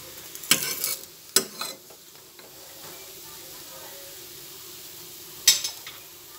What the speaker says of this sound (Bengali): একটা দিক উল্টে দিলাম, ভালোভাবে ভেজে নিতে হবে।